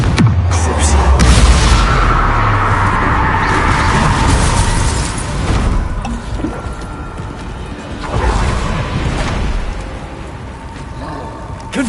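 A Confringo spell detonates in a Hogwarts Legacy duel as a loud, rumbling blast with shattering debris. A second boom follows later amid ongoing battle noise.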